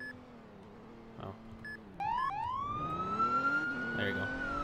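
Police siren in the Roblox game Emergency Response: Liberty County starts up partway through, a rising wail that climbs and holds loud over low engine rumble and a brief voice.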